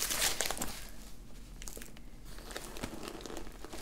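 Packing paper crinkles and rustles in irregular bursts, close and fairly quiet, as a Coach bag and accessories are unboxed, with no talking.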